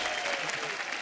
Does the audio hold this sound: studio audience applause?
yes